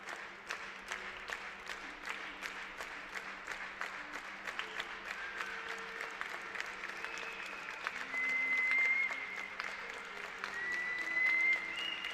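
Spectators applauding at an air rifle shooting bronze medal match, steady sustained clapping from a crowd in an indoor range, with faint tones and a brief swell of louder applause toward the end.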